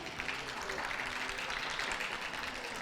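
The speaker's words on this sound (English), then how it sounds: "Can we have a round of applause for them, please?" Audience applause around the ring at a championship dog show for the Affenpinscher in the toy group, a faint, steady patter of clapping in a large hall with a public-address voice talking over it.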